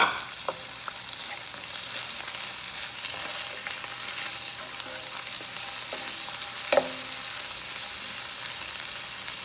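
Shredded ginger fries in a pan for coconut chicken, giving a steady close sizzle that keeps going throughout, broken by occasional scrapes and taps of a utensil.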